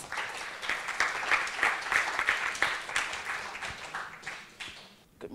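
A round of applause from the audience at a myeloma patient forum, steady clapping of a moderate-sized crowd that holds for about five seconds before thinning out at the end.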